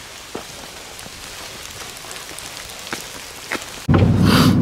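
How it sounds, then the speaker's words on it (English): Rain falling during a Texas winter freeze on a hunting trip outdoors, a steady patter with occasional louder drops, cut off by a sudden loud burst of noise near the end. "it's raining still"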